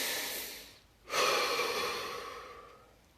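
A deep breath taken during a guided relaxation exercise, a long airy inhale swelling after a brief pause and slowly fading, close and alone with no talking.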